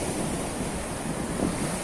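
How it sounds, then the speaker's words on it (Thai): Sea wind and surf on a Thai beach at Ban Nai Rai, a steady broadband rush of waves and breeze buffeting the microphone, continuous and fairly loud with no voices. "ลมทะเลก็พัด พัดดีนะครับ"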